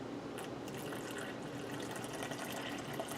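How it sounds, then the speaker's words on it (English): Water poured into a well of flour in a bowl for homemade tortilla dough, a steady trickling splash with a faint bright spatter, fairly quiet and continuous, with no talking. "I'm going to start out by pouring the majority of the water in"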